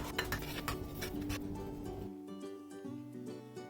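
A spoon stirs a salsa sauce of ketchup and hot sauce in a bowl, producing soft scraping and light clinks against the dish, quiet and close, with a faint hum underneath and no talking.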